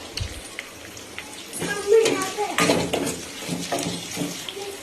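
Onions and curry leaves frying in a pan, a close hiss and sizzle broken by scraping and clinking as they are stirred, fairly loud, with a brief thump at the start and no voice.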